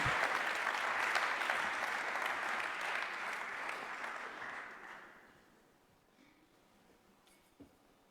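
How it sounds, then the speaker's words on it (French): An audience at a French cycling-city awards ceremony applauds the mayor, a full round of clapping that holds strongly for about five seconds before thinning out and fading into a quiet room with a faint bump near the end. "je vous demande d'applaudir Monsieur le maire Luc Foucault"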